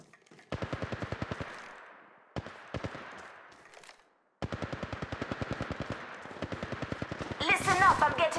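Rapid automatic gunfire in the mobile battle royale game Apex Legends Mobile, several loud close bursts separated by short pauses, ending in a harsher crackling burst.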